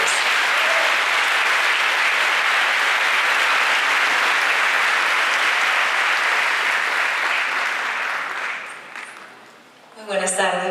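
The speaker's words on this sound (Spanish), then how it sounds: "Un aplauso para ellos." Sustained applause from an audience at a talk with students in Lima, steady and loud for about nine seconds before thinning out, after which a voice begins speaking.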